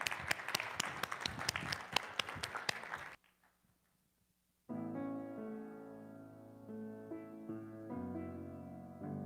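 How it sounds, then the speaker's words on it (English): An audience bursts into dense, loud clapping for a singer being invited up to perform, lasting about three seconds before cutting to near silence and then music. "let's give her a round of applause"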